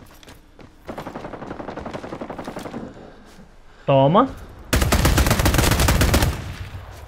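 Bursts of rapid video game gunfire crackle loudly, with a sustained automatic volley near the end and someone talking briefly in between.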